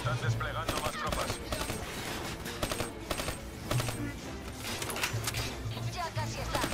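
Gunfire in Call of Duty: Black Ops 3, with repeated bursts of automatic weapons and single shots crackling through a dense battlefield mix, steady and fairly loud, with low rumbles and intermittent voices underneath.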